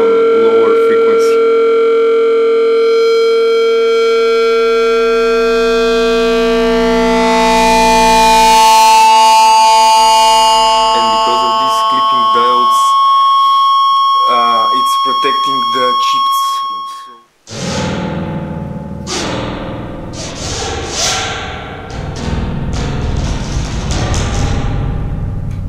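A DIY Eurorack spring reverb driven into self-oscillation by feedback, producing loud sustained siren-like tones that shift in pitch, then give way after a brief dropout to a dense clattering, metallic resonant wash.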